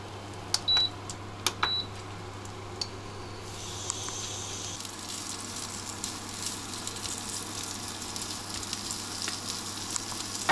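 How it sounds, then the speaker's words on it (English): BBQ pork frying in oil gives a close, steady sizzle that swells after a few seconds, preceded by a handful of short beeps and a low constant hum. "we're going to fry this up to heat it up in the same oil"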